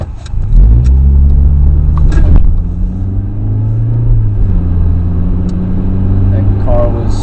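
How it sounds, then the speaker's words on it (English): A car on a quiet suburban road rolls close by with a loud engine rumble whose pitch sags as it slows, while someone talks over the sound. "That car was slowing down, I guess, kind of beckoning me to go before I straddle too long."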